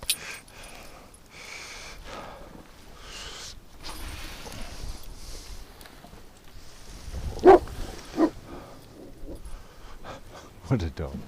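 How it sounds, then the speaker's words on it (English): A dog outdoors on a windy winter day lets out a couple of short, sharp barks amid gusting wind and panting, with someone talking throughout. "He's barking at the wind now."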